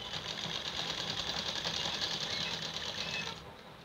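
A sewing machine stitches pieces of leftover suit fabric with a steady, fast mechanical whir for about three seconds before slowing off, moderately faint and close.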